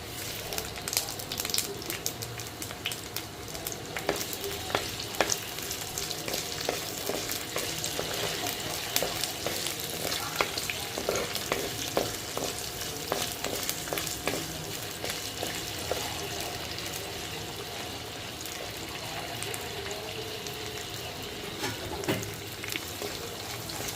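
Peanuts, garlic, coriander seeds, cumin and green chillies frying in a pan, a steady close crackling sizzle with frequent small pops and faint stirring clicks throughout.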